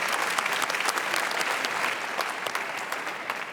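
Audience applause at a summit session, a steady dense clapping from a large crowd that holds throughout without a break.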